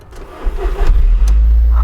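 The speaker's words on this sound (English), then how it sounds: "This is the first time that I'm going to be turning the key on this car and seeing if we can get it going." Original Audi TT cranked with the key, the starter churning briefly before the engine catches and settles into a loud, steady idle rumble close by.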